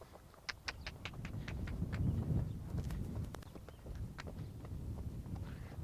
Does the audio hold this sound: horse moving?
yes